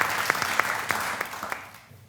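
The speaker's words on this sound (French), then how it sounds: "Une bonne main d'applaudissement pour la question." An audience at a talk show applauds, a burst of clapping with a few sharp claps standing out, fading away toward the end.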